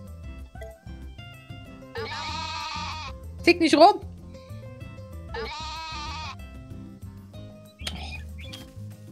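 A goat in the farming game Story of Seasons: A Wonderful Life lets out two clear, wavering bleats a few seconds apart over soft background music, with a person talking between them.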